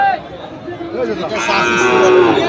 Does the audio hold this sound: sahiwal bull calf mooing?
yes